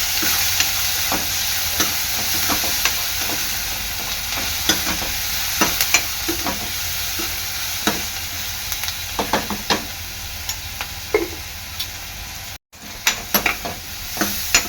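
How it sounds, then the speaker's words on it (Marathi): Chopped onion with curry leaves and salt frying in hot oil in a pan while being stirred; a steady sizzle runs throughout, broken by frequent short clicks and scrapes of the spoon, with no talking. "कांदा चांगला शिजवून घ्यायचा आहे तेलात"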